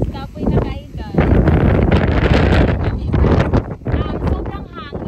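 Strong gusting wind buffets the microphone on the summit of Mt. Balagbag, a loud continuous roar and rumble, with people speaking intermittently beneath it.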